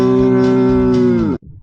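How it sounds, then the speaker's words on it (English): A cow moos in a single long, steady, loud call that holds for over a second and then cuts off abruptly, heard alone without speech. "Neo, what does the cow do"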